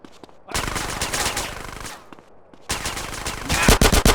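Video game gunfire in GTA San Andreas on PC: two loud bursts of automatic fire a second or two apart, ending in a few sharp separate shots.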